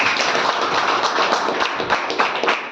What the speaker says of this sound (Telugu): గట్టిగా క్లాప్ కొట్టండి